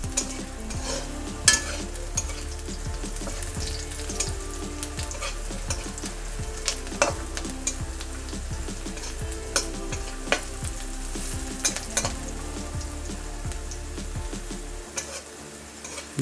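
Cashew nuts fry in hot oil for a Bengali basanti polao. There is a steady busy sizzle, with the scrape and tap of a stirring spoon against the pan throughout.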